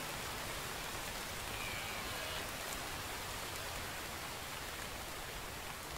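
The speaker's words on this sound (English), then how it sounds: "Rain will put the fire out." Steady broadband rain hisses evenly in the video game The Infected, a continuous wash of falling rain with no pauses and no talking.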